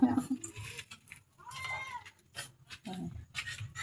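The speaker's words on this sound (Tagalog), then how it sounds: "Mga humihingi na ng pagkain yung pusa." Hungry cats meow repeatedly, begging for food, with a voice talking over and between their cries at close range.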